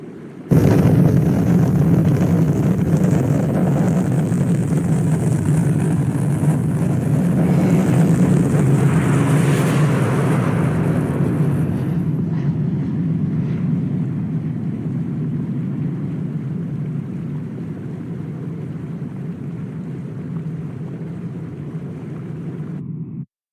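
A spacecraft lifts off in the video game The Crystal Key 2, a loud sustained roaring rumble of engines that swells midway, then gradually thins and fades as the craft pulls away.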